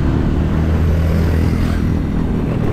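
Motorcycle taxis (ojek) speeding along a mountain road near the Sunan Muria tomb at Colo on Mount Muria, a steady loud low engine drone filling the whole stretch with no talk.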